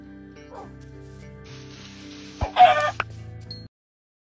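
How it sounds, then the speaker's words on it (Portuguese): Chicken clucking in Minecraft on Xbox 360, a short burst of game-animal clucks rising loudly near the end over a steady game background hum, with no talk. "era a galinha de estimação dele?"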